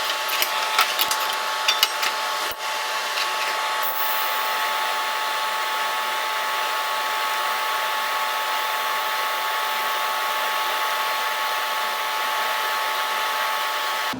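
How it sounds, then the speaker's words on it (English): A TIG welder with .030 filler rod welds a custom steel taillight bucket, giving a steady, loud, continuous hiss that runs unbroken after a few opening clicks. "let me grab the taillight bucket and we'll get this thing welded up."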